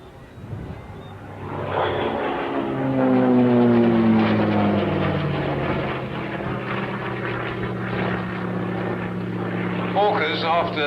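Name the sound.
vintage propeller aircraft flying at an air show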